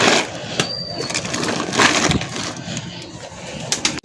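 Pigeons eating close by produce a steady crunching and pecking at grain, with sharp clicks and a faint chirp over continuous rustling.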